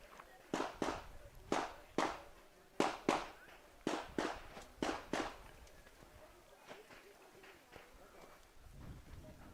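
Handgun shots at an IPSC World Shoot competition, 9mm classic division, crack out in a quick irregular string of about a dozen sharp reports, loud and fairly near, with crowd and commentator voices around them.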